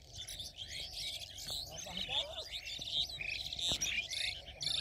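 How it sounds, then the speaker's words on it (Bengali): A chorus of birds twitters busily across a cattle-ploughed field in rural Naogaon, with a faint insect buzz beneath and a few sharp clicks; the overlapping calls are steady and moderately near, with no talk. "এই যে দেখুন, অনেকগুলি পাখি"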